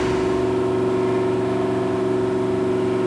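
Iron piston ring test engine running on a dyno after ignition, a loud steady mid-pitched engine drone with strong harmonic hum throughout, no talking.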